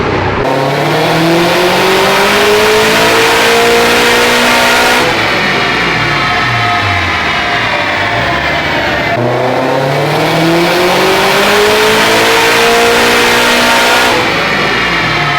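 A loud turbocharged 86 engine on a dyno revs hard and steadily climbs in pitch, drops back, then winds up again in repeated high-power pulls, its power falling off around 6,200 RPM.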